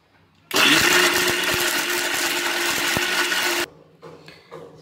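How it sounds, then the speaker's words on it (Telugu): Mixer grinder whirring as it blends ginger pickle with salt, a loud steady motor roar that starts abruptly, runs about three seconds and stops, followed by faint kitchen rustling. "ఇప్పుడు దీన్ని మనం మిక్సీ పట్టుకుందాం"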